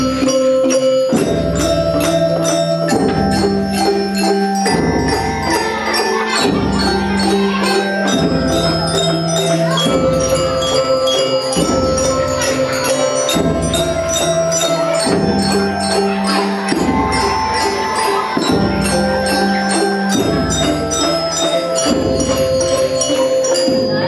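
An orchestra plays Peter's confident theme from Peter and the Wolf, a shadow puppet show. Bright pitched notes with bell-like attacks arrive in a steady, regular phrase rhythm, loud and continuous with no talking.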